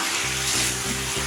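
Carrots frying in a pan for spring roll filling, giving a steady, close sizzle with a faint low hum running underneath the whole time.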